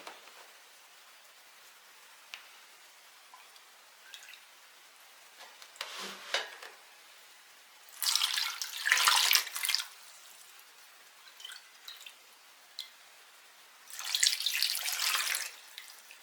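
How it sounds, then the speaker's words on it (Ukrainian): Marinade poured over broiler chicken carcasses in a tray, heard as two longer bursts of splashing liquid between scattered drips and small clinks, fairly close and with no talk. "І тепер заливаємо наші тушки маринадом."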